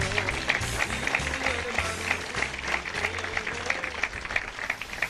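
A church congregation claps hands in praise to Christ, a steady rhythmic clapping from many people filling the room, with music or voices blended underneath and no break over several seconds.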